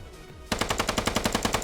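Rapid automatic gunfire in the Squad video game during a tournament match, a steady burst of roughly a dozen evenly spaced loud shots after a brief quiet lead-in.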